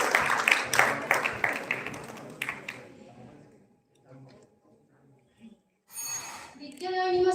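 Audience applause at an oratory contest, a burst of many hands clapping at the start that fades within a few seconds, followed by quiet room sound and then a speaker beginning to talk.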